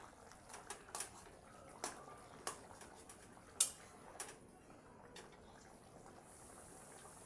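A pot of fish curry with potatoes simmers on the stove, giving off soft irregular pops and small bubbling ticks over a quiet low bed of sound, with a few sharper clicks along the way.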